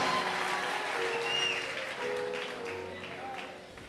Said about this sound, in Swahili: Shangilia Bwana kwa makofi makubwa